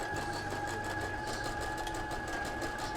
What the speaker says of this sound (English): you're gonna sew this bottom edge together